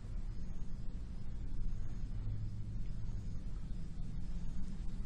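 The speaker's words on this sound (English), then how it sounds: "This is the sound of the beach with the Apple microphone." Beach ambience captured on an Apple iPhone microphone, a low, steady rumbling wash of surf and wind noise, continuous and fairly faint with no distinct events or voices.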